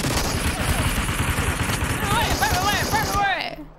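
Rapid bursts of SKS rifle gunfire in the battle royale game Super People, dense repeated shots close and loud, with a voice talking over them and tonal effects near the end.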